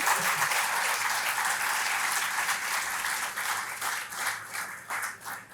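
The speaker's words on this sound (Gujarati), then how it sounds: "આપણે સૌ એમને તાળીઓના ગડગડાટથી વધાવીએ." Sustained warm applause from a seated audience welcoming the poet Niranjan Bhagat at a literary gathering, dense steady clapping that thins and fades toward the end.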